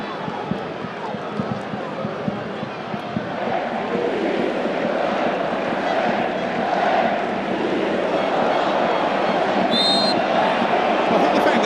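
Large football stadium crowd at a World Cup match between France and Ivory Coast, a steady dense roar of voices and chanting that swells and fills the space continuously, with a faint whistle near the end.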